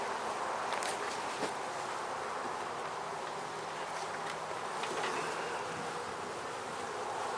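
Honey bees buzzing around an open hive during a beehive inspection, a dense steady drone filling the scene with a few nearer passing buzzes and faint handling noises, no talk.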